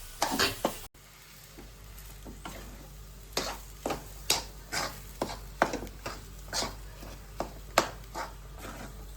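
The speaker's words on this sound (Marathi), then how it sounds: "परतून घेऊया." Potato filling for aloo paratha stirred in a hot pan, with a steady sizzle and repeated sharp scrapes of the spoon at a fairly regular pace, close and clear with no talking.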